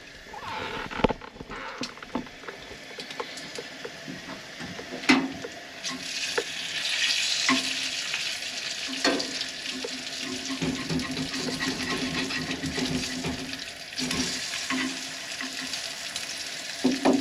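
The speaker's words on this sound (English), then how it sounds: "It's like cooking Spam or something, but you're cooking cheese." Cheese fries in a pan at a creekside cabin on a wet, rainy Alabama morning: a steady close sizzle and crackle with scattered pops and clicks, and no talking.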